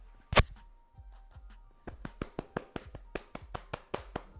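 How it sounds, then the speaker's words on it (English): Hands coated with bonding oil clap together while curly hair is being styled: one sharp loud clap, then a quick run of about a dozen softer, close, evenly paced claps. "Clap."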